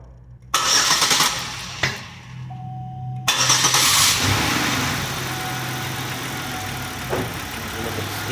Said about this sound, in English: I'm gonna start this truck, this car up.